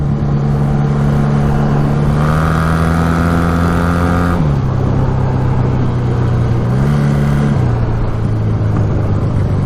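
A Honda trike's engine droning steadily while riding, with a loud, close, continuous hum that rises in pitch and then settles as the throttle changes, under heavy wind rush.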